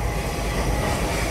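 A steam locomotive on a heritage railway runs, giving a loud, steady rumbling roar with a hiss of exhausted steam, close by and continuous.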